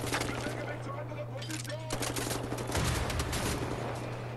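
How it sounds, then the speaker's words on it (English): Bursts of automatic weapon fire in the shooter video game Wolfenstein: The New Order, dense and rapid over a steady low game hum, with a voice briefly talking in between. "Okay, I shot all three bullets. I thought this... okay, this is an automatic weapon."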